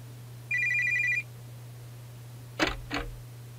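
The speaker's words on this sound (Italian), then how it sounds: "Perché Akari continua a chiamare?" A telephone rings in a video game: one short electronic trill of warbling beeps, followed by two dull thuds, set against a steady low hum.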